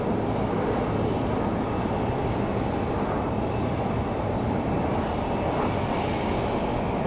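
Republic Airways airliner landing on runway 5 right at Raleigh-Durham on a windy day: a continuous, loud, broad jet roar holding steady throughout, without voices.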